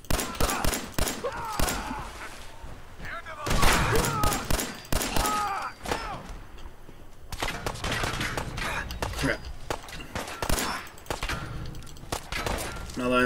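Gunfire in the Fallout 4 video game comes as bursts of sharp, punchy shots with heavy thuds throughout, while a person talks between and over the volleys.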